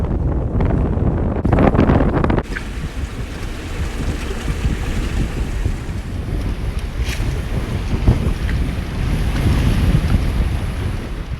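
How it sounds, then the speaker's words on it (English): A sailboat running toward Kaunakakai harbor: loud, constant wind buffeting mixed with rushing water and wave wash against the hull, steady for the whole stretch with no voices. "Sailing right up toward Kaunakakai, just in time for sunset"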